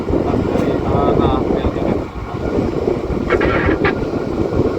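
Strong wind gusts across the microphone as a barge is docked, a dense, steady roar with boat and water rumble underneath and a faint voice now and then.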